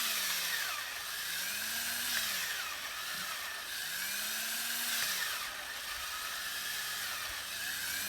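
Drill boring a sap tap hole about an inch and a half into a backyard maple tree for sugaring, a steady high whine with rising and falling motor pitch, close and continuous.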